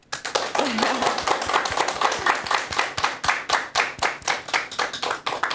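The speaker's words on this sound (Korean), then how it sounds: "여러분 큰 박수 부탁드립니다." An audience at a lecture on relationships claps to welcome the speaker, a lively run of close, distinct hand claps with a quick rhythmic pulse and a brief voice near the start.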